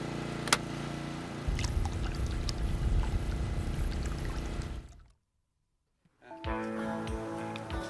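A Grundfos SQFlex pump running off a generator pushes water with a steady, fairly loud rushing and pouring noise. It cuts out for about a second, then starts again.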